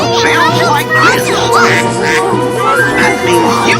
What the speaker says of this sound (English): A duck sounds like this.